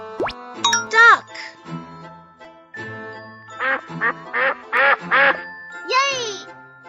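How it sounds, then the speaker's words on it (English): A cartoon duck quacks in a children's animal-learning song, several bright quacks in a short bouncy run mixed with chimes and jingles, with a voice naming the animal. "Duck."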